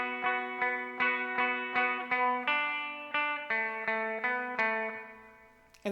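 Electric guitar plays a riff as a steady flowing line of about a dozen clean picked notes with shimmering echo, close and bright, ending on a note left to fade.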